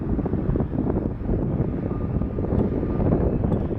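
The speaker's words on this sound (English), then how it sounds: "this one will be an Alaska 737 MAX 9." An Alaska Airlines Boeing 737 MAX 9 jet departs from Portland, its steady broadband engine roar continuous and fairly loud, mixed with some wind buffeting on the microphone.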